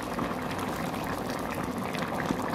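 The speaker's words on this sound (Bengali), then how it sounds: "এবার আমি এটাকে ভালো করে ফুটতে দেব। ঝোল ফুটে গেছে" Jackfruit and prawn curry gravy bubbling steadily in a pot, a continuous close, even boil with dense popping and no talk over it.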